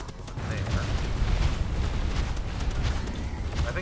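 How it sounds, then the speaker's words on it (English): A dense barrage of explosions in the video game Voidling Bound rumbles continuously, layered booms and crackling blasts forming a loud, steady roar with no clear pauses. "That crap load of explosions there right in front of them."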